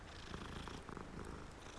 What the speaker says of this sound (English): That is to pet cat.